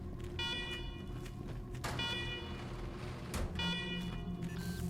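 Alarms in the Wasteland 3 video game blare in repeated tonal whoops over a constant noisy din, pulsing roughly every second and a half at steady loudness.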